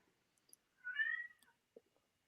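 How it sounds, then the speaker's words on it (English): A house cat gives a single clear, mid-length meow close by in a quiet room, with a few faint clicks around it. "that's just a cat."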